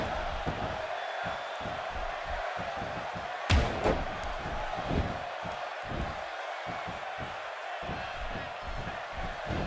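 A sold-out arena crowd roars continuously during an X-Pac versus Goldust King of the Ring 99 match in the wrestling game WWE 2K16, with a sharp slam from the ring partway through and commentary talking over it.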